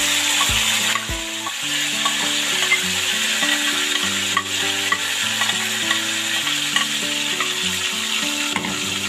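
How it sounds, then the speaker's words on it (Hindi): Cooked mutton, for a bhindi gosht curry, fries and sizzles loudly in hot oil as it is stirred, with a steady hiss throughout and repeated scraping knocks of a spoon against the pot. "ऑयल के अंदर मैंने इसे तकरीबन 3 से 4 मिनट तक ना भून लेना है।"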